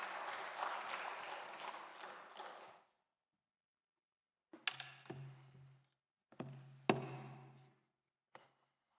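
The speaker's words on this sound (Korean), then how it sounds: "우리 박수로 맞이하겠습니다." A church congregation at a spring revival service claps to welcome the pastor, a dense burst of applause that stops, then several short scattered rounds of clapping and knocks in a quiet hall.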